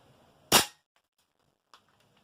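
A TM Type 89 gas blowback airsoft rifle fires one sharp semi-auto shot, loud and close. A faint tick follows moments later as the pellet strikes a tin target downrange.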